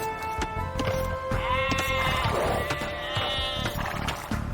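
Sheep bleat in the Age of Empires II: Definitive Edition video game, several overlapping bleats in succession among clicky game sounds and faint interface effects.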